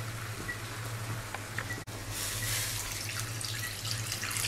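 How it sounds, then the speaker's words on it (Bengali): Hot water poured into a pan of boal fish do pyaza curry, a steady close splashing pour that breaks briefly and then resumes more strongly. "গরম জল ব্যবহার হবে সেই পরিমাণ মতো জল দেবো গরম জল"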